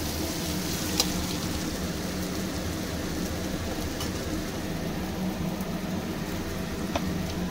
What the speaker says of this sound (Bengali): আলু আর পেঁয়াজ একসঙ্গেই আমি একটু ভালো করে ভেজে নিয়েছি।